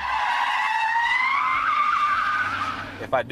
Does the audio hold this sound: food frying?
no